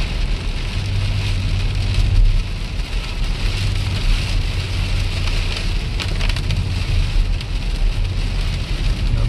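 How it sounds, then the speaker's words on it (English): Steady patter of mixed rain and snow in a thunderstorm drums on a car, dense and continuous, with a low rumble underneath. "Okay, we have a thunderstorm with mixed rain and snow."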